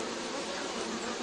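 Honey bees buzz around a hive frame holding royal cells, a dense continuous hum close up with no pauses over about a second.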